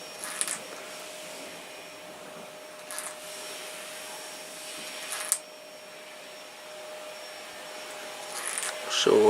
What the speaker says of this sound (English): yeah, the vacuum's coming.